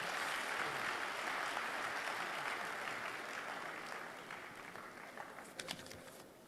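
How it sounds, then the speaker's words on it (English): Sustained audience applause at an award ceremony as the Dean comes up, a dense even clatter of many hands that gradually thins and fades toward the end. "Can we please clap for the Dean as she comes up?"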